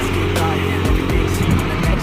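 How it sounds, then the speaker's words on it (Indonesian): An intercity Putra Pelangi bus pulls away at full throttle from a city terminal at night, a loud, close engine roar rising steadily with a faint voice mixed underneath. "Ya, busnya langsung gaspol ya."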